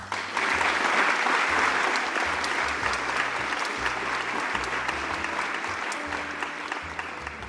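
Steady applause from a large crowd, clapping dense and continuous like a standing ovation, holding at an even level for several seconds before tapering slightly at the end.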